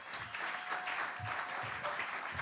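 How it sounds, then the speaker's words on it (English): Conference audience applause after a worship song, a sustained wash of many hands at moderate volume with slight swells, with a faint tone lingering beneath. "Big round of applause for that."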